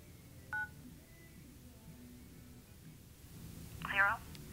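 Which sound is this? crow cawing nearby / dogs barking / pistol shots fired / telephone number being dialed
telephone number being dialed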